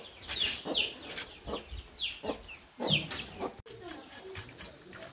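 Chickens in a yard garden cluck and give short, sharp calls at feeding time, several birds close by in an irregular back-and-forth over faint outdoor background.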